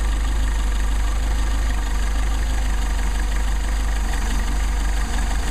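A Mercedes 190SL engine idles with a loud, continuous low rumble during carburetor adjustment, with slight unevenness hinting at a stumble and no talking.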